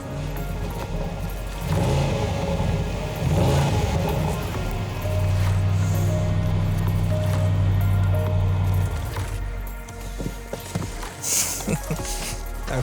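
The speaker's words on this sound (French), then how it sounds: "Je vous laisse apprécier le V8." A 575-horsepower Range Rover SVR V8 with quad exhaust outlets rumbles at idle with a deep, steady, loud drone, and someone talks over parts of it.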